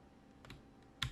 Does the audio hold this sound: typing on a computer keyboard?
yes